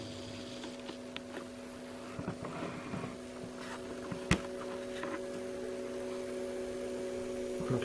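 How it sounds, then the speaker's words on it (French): PC watercooling pump running at maximum, heard from close range as a steady low hum with faint tonal whine, quiet and continuous with a few small clicks and bumps. "là la pompe elle fonctionne à son maximum"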